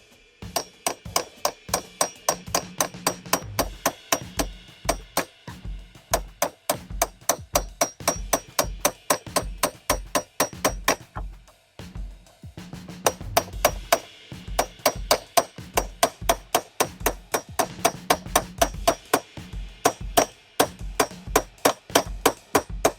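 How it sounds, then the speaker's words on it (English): A hammer and punch drive a metal latch pin into a wheeled Pelican cooler: dozens of sharp metallic strikes in steady, rapid runs, loud and close, with brief pauses between bursts. "We're going to take our hammer and hit it in as far as you can without hitting the cooler."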